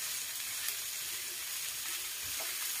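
Squash sizzles as it is sautéed with garlic and onion in a hot pan, a steady close frying hiss with faint stirring scrapes and no talk.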